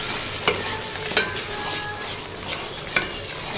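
Ground dried coriander and spices being stirred in a frying pan for moong dal, a steady sizzle under scattered scraping clicks of the spoon against the pan, with no talking.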